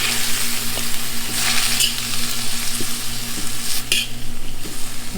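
Chow mein noodles with cabbage stir-fry over high heat in a hot pan, giving a steady loud sizzle with scraping stirs and spatula clinks throughout.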